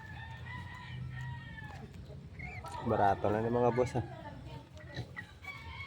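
A rooster crows loudly in the middle, surrounded by scattered clucks and other chicken sounds, while someone talks nearby.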